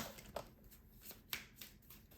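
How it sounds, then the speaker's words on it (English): Tarot cards are shuffled close up in a few quick riffling bursts, soft and crisp with brief pauses between. "we're going to do some shuffling"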